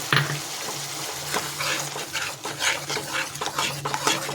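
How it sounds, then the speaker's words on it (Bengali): A spice paste of onion, garlic, green chilli, tomato, mustard and poppy seeds is stirred and sautéed in a pan with a little water, giving a steady wet sizzle broken by repeated scraping strokes of a spoon, close and with no talk. "এবার আমি কষাতে থাকবো। দিয়ে দেবো সর্ষে"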